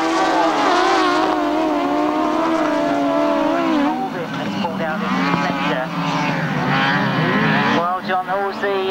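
Grasstrack motorcycles at the 1994 Battle of Hastings meeting roar round the bottom bend, loud overlapping engine whines rising and falling in pitch as the bikes pass, with a commentator talking throughout.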